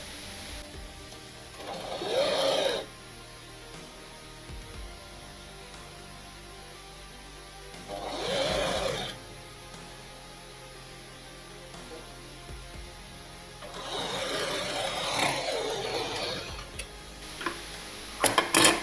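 A sewing machine stitches a blouse dart in three short, quiet bursts separated by pauses, the last burst a bit longer, with faint ticking between runs.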